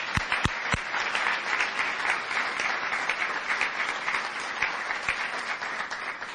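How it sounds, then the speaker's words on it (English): An audience at a student athlete of the year banquet gives a steady round of applause, a dense, sustained wash of many hands clapping in a hall, moderately loud and without speech. "one more round of applause for these incredible young people"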